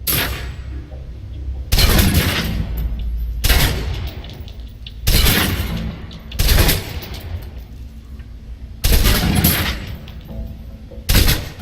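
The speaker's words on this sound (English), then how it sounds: "Now, let's move on to the submachine gun. Now let's empty the clip." Submachine gun fire in Alpha Protocol, emptying the magazine in several loud, separate bursts, each a second or so long and split by short pauses, with no speech.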